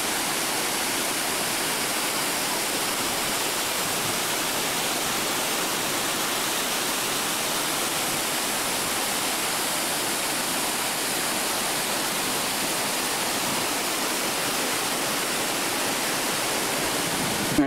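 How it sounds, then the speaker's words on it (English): Close, steady roar of a waterfall seen from its top, dense and unbroken hiss of falling water with no pauses and no voices. "this is the top of the waterfall right here"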